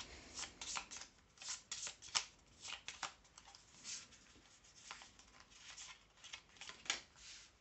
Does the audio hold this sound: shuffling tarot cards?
yes